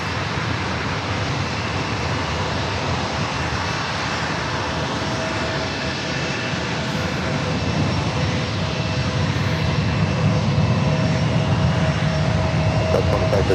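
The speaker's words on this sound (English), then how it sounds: "Arrival is Delta Airlines flight 2572, coming in from Seattle, 737-800." A Delta Airlines 737-800 arriving from Seattle at San Diego airport produces a steady, moderately distant jet engine roar that builds slightly toward the end, with faint background noise throughout.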